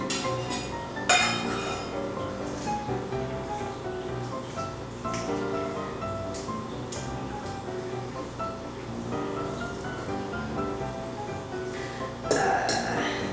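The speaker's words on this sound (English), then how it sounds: "I'm literally going to use this little table knife and cut it into pieces" Gluten-free biscuit dough is cut into pieces with a small table knife in a bowl, giving light clinks and scrapes of metal on the bowl over a steady, busy background.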